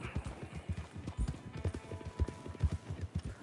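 Horse hooves clip-clop at a steady trotting pace in Red Dead Redemption 2, with faint creaks and ambience around them.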